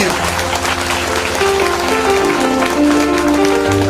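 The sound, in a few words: congregation clapping loudly in church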